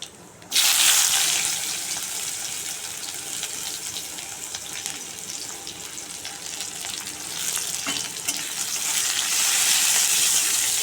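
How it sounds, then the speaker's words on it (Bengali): Chopped onions hit hot oil with black cumin and sizzle loudly and continuously after an abrupt start, the crackle swelling again toward the end, with no talking. "পেঁয়াজটা একটু ভালো করে ভাজা ভাজা করে নেব।"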